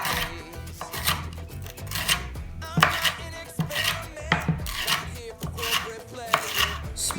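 A knife slicing vegetables into strips on a cutting board for a massaged kale salad, with rapid close rhythmic chops in short bursts and no talking.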